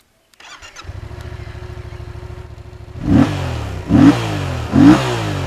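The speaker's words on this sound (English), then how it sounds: "let's also have a listen to the stock exhaust" A Yamaha MT-07 first-generation motorcycle on its stock exhaust starts up, settles into a steady twin-cylinder idle, then gives three sharp throttle blips that rise and fall, loud and close with no talk.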